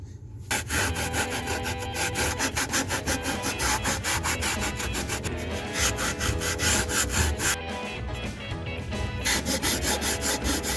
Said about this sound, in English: I'm going to try using this sanding block